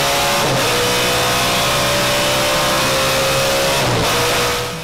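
An Audi V8 DTM race car engine screams at around 9,500 RPM, loud and close, with two brief dips in pitch where the revs drop and climb back up, fading slightly at the end.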